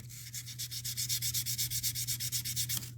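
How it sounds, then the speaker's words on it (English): Sandpaper rubbing back and forth along the fret sides of a Fender Precision bass in a steady, fast rhythm, close and clear, with no voices. "basically what I'm just doing is sanding the sides"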